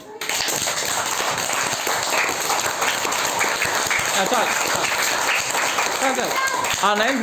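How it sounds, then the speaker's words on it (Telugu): Students clap for a classmate in a classroom during an arithmetic lesson. The clapping is dense and sustained and runs nearly the whole time, with a teacher's voice briefly heard over it near the end. "ఒకసారి క్లాప్స్ చెప్పండి"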